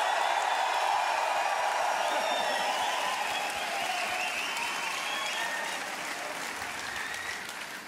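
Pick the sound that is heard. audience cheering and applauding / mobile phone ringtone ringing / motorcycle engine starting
audience cheering and applauding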